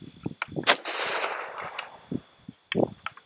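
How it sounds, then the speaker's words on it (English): A 12 gauge double-barrel pistol fires once at a steel target about five yards away, a sharp close blast with a decaying ring, surrounded by handling clicks and a later metallic clack. "So we're going to try to shoot our steel."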